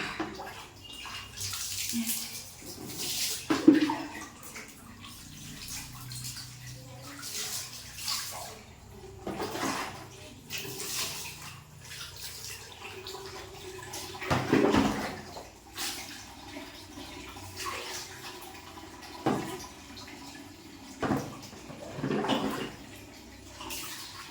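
Water splashing and being poured during a morning bath while wearing a gamchha, in irregular bursts and rushes close by, with quieter dripping gaps in between.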